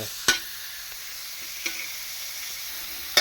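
Vegetables stir-fried with pork in a pan, a soft continuous sizzle with a few sharp utensil scrapes against the metal, close and without speech.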